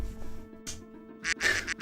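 A person imitates duck quacking with their voice, giving a few loud, nasal quacks in quick bursts over a low hum of room noise, ending in a couple of close, harsh calls.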